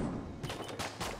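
Several gunshots from Enter the Gungeon, heavy cannon-like shots fired in a quick irregular burst of about four or five broadband blasts over a low game rumble.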